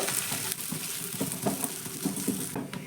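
Mashed boiled potato is worked into spices in a pan over a gas flame, giving a soft steady sizzle broken by periodic stirring and scraping strokes, fairly quiet and close.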